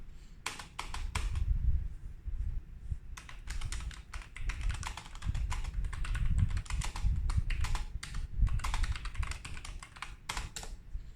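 Quick, steady typing on a Logitech MX Mechanical keyboard with tactile quiet switches, a dense patter of soft clicks with short pauses between bursts, heard close and alone.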